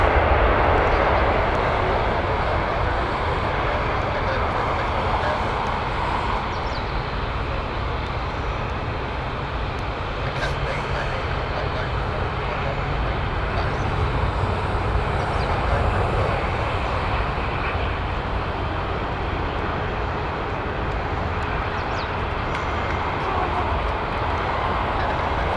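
An Airbus A350-900 airliner at Heathrow Airport gives a steady, broad jet roar that holds at an even level throughout, a continuous wash of engine noise with no voices.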